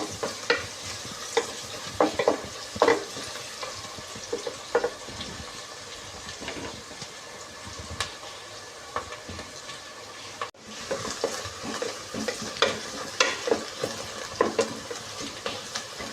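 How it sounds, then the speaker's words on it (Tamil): Onions and green chillies sauté in a pan for fish biryani, a soft continuous sizzle broken by frequent scraping and clinking of a stirring spoon against the pan. "நல்லா ஒரு கோல்டன் ப்ரௌன் கலர் வர வரைக்கும் இதை வந்து நம்ம நல்லா வதக்கிக்கலாம்."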